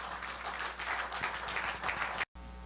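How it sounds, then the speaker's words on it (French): Church congregation applauding together, a steady dense wash of clapping that runs loud and unbroken for about two seconds before cutting off abruptly. "Est-ce qu'on peut acclamer pour la gloire de Dieu?"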